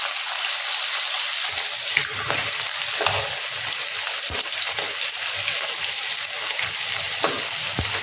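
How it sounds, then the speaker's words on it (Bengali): Katla fish pieces frying lightly in oil for rezala, a steady, loud, close sizzle with crackles and brief clinks of stirring throughout. "মাছটাকে এরকম অল্প করে ভেজে তুলতে হবে।"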